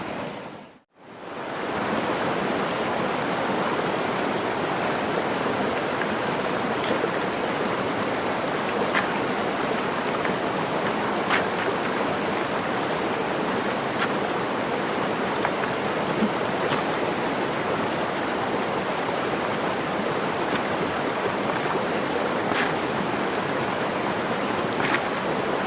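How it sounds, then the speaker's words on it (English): Creek water rushes through a gold prospecting sluice in the East Fork San Gabriel River, a steady, loud, continuous wash of flowing water with faint ticks and no voices. "I'm gonna set it up and let you guys take a look at me run a couple buckets"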